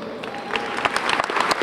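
Brief, scattered clapping from a small crowd at the christening of the fishing vessel Arctic Prowler at a Ketchikan shipyard, a few claps building over a low murmur.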